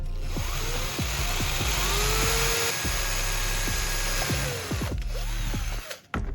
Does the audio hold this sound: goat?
no